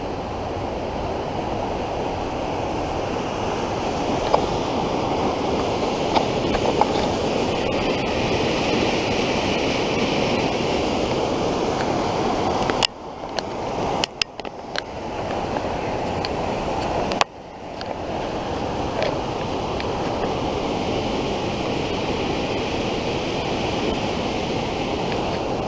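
Mountain torrent rushing loudly beneath a footbridge near a car-free Alpine village, a steady broad roar of water up close that briefly dips and crackles mid-way before the continuous rush returns, with no voices.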